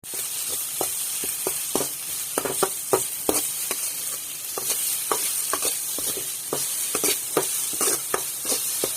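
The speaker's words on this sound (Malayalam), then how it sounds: "ചമ്മന്തി വെളിച്ചെണ്ണയിലിട്ട് നന്നായിട്ടൊന്ന് മൂപ്പിച്ചെടുക്കുക" Coconut chutney roasting in coconut oil sizzles steadily while a spoon scrapes and stirs through it in frequent, uneven clicks, close and fairly loud with no talking.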